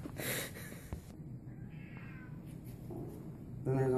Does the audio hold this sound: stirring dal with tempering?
no